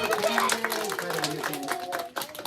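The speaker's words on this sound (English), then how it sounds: "Everybody give Candace a big clapping hand and go, yay!" A children's audience at a juggling show claps and shouts a cheer for a young girl helper, with sharp, uneven claps over excited voices and a cheer sliding down in pitch.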